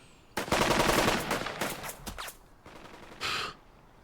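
Gunfire in the Burden of Command video game: a loud, sustained burst of rapid rifle and machine-gun shots, then scattered sharper cracks and a final short volley, with no talking over it.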